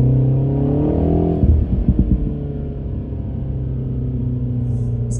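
Engine of a MINI John Cooper Works with exhaust valve, its sound partly played through the car's speakers: a steady low droning rumble with a brief revving swell and a few throbbing pops, close and continuous.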